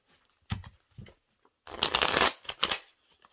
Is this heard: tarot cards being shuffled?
yes